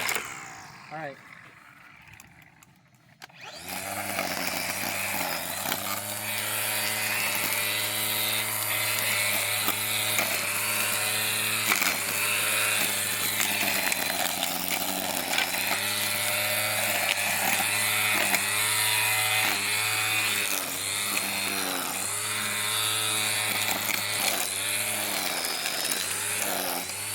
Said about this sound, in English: As you can see, this trimmer works really well.